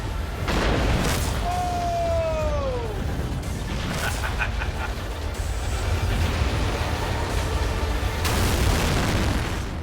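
A cement truck blown up with explosives in an open test range sets off a loud, sustained boom and rumbling blast that roars on for several seconds, with a brief whistling tone and lingering debris noise.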